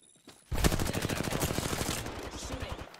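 Automatic gunfire in the video game Apex Legends, a sustained loud rapid-fire burst of closely spaced shots that starts abruptly after a brief quiet moment and continues steadily to the end.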